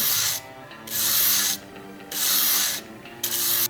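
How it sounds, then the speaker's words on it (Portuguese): Knife blade drawn lightly across 400-grit sandpaper: three long, close, loud scraping strokes separated by short pauses, each a bright hiss, with no voice. "Lixa 400, tá? algumas passadas. Eu passo bem de leve."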